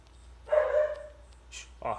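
A dog gives a short bark and a brief yip at close range against quiet room noise.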